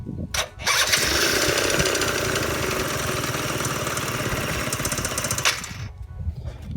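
Yamaha JOG ZR scooter with a freshly adjusted carburetor fires up and runs, a loud, rattling, buzzy two-stroke idle close by that holds steady for several seconds before cutting off.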